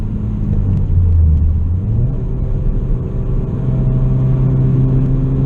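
Steady in-cabin drone from a 2016 Ford Focus RS held in 4th gear at about 70 mph, a loud continuous engine and road rumble with a gentle rise in pitch partway through.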